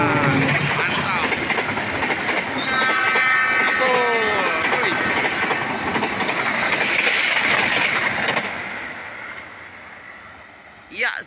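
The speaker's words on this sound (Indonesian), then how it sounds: "inilah Lodaya Bandung menuju Solo Balapan" Lodaya passenger train running from Bandung toward Solo Balapan speeds through the Cimekar–Gedebage section, a loud close rumble with clattering wheels and squealing tones that fades after about eight seconds, with a commentator talking over it.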